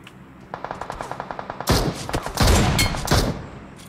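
Automatic gunfire in Battlegrounds Mobile India, a rapid even burst of about a dozen close shots followed by a louder, denser volley of overlapping fire.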